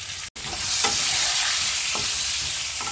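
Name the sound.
potatoes frying with salt and turmeric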